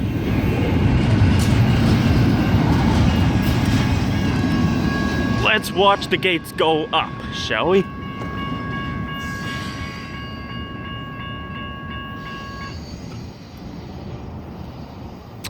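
A Union Pacific freight train rumbles past the West 7th Street railroad crossing in Tucson, Arizona, a steady loud roar with a crossing bell tone, then quieting as the train ends; someone talks over it.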